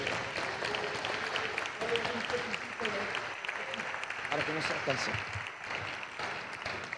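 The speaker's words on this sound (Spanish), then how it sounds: "dele un aplauso al Señor nuestro Dios" Church congregation clapping together during an evening service, a steady wash of many hands at moderate level, with scattered voices and brief exclamations mixed in.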